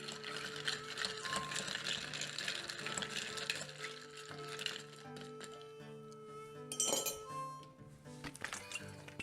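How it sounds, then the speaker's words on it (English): Bourbon cocktail being stirred in a glass, giving a series of light clinks and chimes against the glass at close range, with a brighter cluster of clinks near the end. "Give that a stir."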